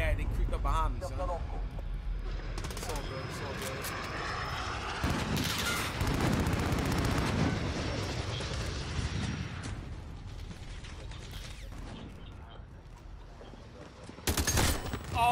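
Repeated gunfire and bursts of shots crackle through a Call of Duty Vanguard multiplayer match, loud and dense at first and then thinning out, while players talk excitedly over the shooting.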